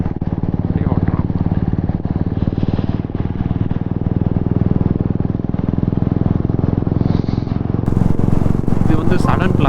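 A Royal Enfield Classic 350 motorcycle being ridden on a group ride, its steady thumping engine loud and close throughout with constant wind rush, while someone talks over the engine.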